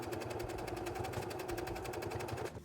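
A sewing machine runs a continuous top stitch around a small quilted mug rug, its needle chattering in a fast, even rhythm up close before slowing to a stop.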